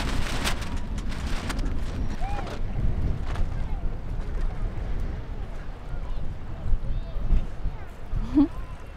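Wind buffeting while sailing on a boat at sea, gusty rushing noise against the microphone with water sounds, a voice speaking over it.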